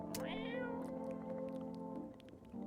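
A cat in a video game gives a drawn-out, wavering meow that bends upward and then sustains. It sounds close and clear over a steady hum, with faint clicks around it.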